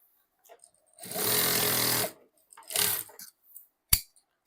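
A sewing machine stitching piping on a homemade fabric lunch bag runs in a steady one-second burst, then a shorter run, followed by a couple of sharp mechanical clicks in an otherwise quiet room.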